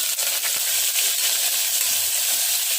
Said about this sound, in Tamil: இது தாளிக்க பட்டை, சோம்பு, அன்னாச்சி, இதில் ஒரு வெங்காயத்தை கட் பண்ணி போட்டுக்கலாம்